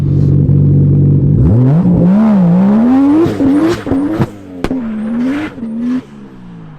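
A loud sports car, apparently a Porsche Turbo or a Mk4 Supra, sits at a steady idle and then revs up close by in several rising and falling pulls, with a sharp bang or two between them, and no voices.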